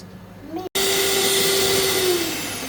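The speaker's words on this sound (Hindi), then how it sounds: "अब हम इसको करेंगे ब्लेंड" An electric blender starts up with a click and runs steadily, mixing chocolate cake batter of cocoa powder, eggs, sugar and vanilla essence; a loud, close, continuous whirring motor drone that slowly eases in pitch toward the end.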